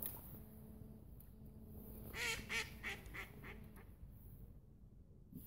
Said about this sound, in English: Duck's laughing at me.